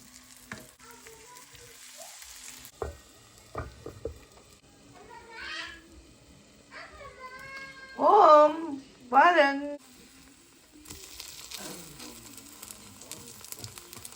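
Batter made from leftover pongal rice is dropped by ice-cream scoop into melted butter in a pan and sizzles steadily, with a soft frying hiss running beneath a voice and a few louder clattering bursts.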